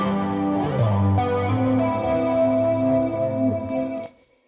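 Electric guitar run through a funk filter effect with reverb and delay, playing sustained swelling notes with a chorused, wobbling tone that rings for several seconds before cutting off and decaying.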